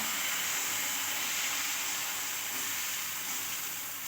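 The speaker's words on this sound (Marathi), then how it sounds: "पॅन तवा गरम गॅसवरती ठेवलेला आणि त्याच्यामध्ये थोडासा तेल टाकायचं" Oil sizzles on a hot tawa being readied for masala dosa, a steady, even hiss that holds without break throughout, with no voices.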